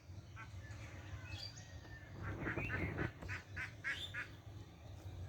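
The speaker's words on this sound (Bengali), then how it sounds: "এরা মনে হয় পুকুরে গিয়েছিল হাঁসগুলো, এবার আবার বাড়ি ফিরছে।" Ducks coming back from a pond in the early morning quack and honk in a short cluster, faint and somewhat distant, over a low outdoor rumble.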